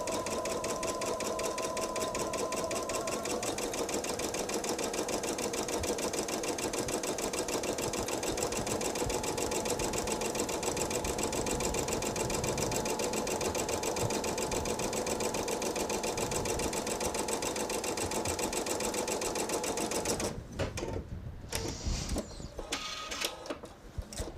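A sewing machine stitches a quilt steadily with a fast, even mechanical whir, then stops abruptly near the end, leaving a few scattered clunks.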